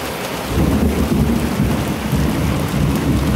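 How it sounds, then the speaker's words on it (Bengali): Heavy rain pours down outside during a thunderstorm, heard from inside a room as a continuous loud roar with deep rumbling thunder beneath it. "প্রচন্ড বৃষ্টি হচ্ছে বাইরে।"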